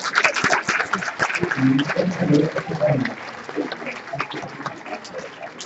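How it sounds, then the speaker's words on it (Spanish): Audience applause after a handwriting-analysis presentation, a dense patter of clapping mixed with voices speaking over it, louder in the first half and then thinning out. "Un aplauso para los compañeros, por favor."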